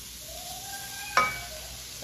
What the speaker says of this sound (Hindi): अब हम इन तीनों चीज़ों को अच्छे तरीके से 1 से 2 मिनट के लिए फ्राई करेंगे।